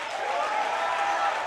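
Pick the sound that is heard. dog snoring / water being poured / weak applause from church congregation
weak applause from church congregation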